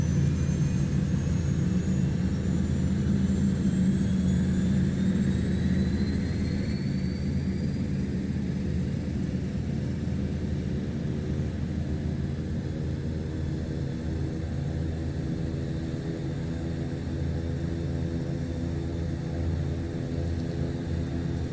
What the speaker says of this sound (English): that is our first engine started